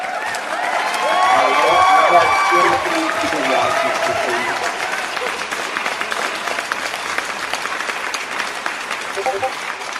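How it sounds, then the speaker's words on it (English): A crowd claps steadily, with a few cheers and voices rising in the first seconds, then the applause carries on evenly as a broad patter. "So round of applause to y'all."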